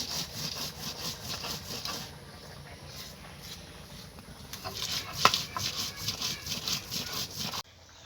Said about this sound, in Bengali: এই কাঁচা লঙ্কাটাকে আমি বেটে দেবো।